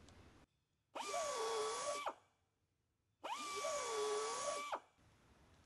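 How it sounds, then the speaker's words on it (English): A carbide cutter spun in a buffing tool reams out a damaged injury in a tire, two sustained high-pitched whining bursts of about a second each with short pauses between, close and loud, no talking. "we'll go in there and we'll ream the injury out and remove the damage"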